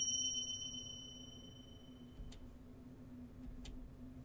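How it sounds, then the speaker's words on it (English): Bell dinging twice with sharp, bright strikes, the first after a fading ringing tone, over a low steady hum in an otherwise quiet room. "Ding! The bell."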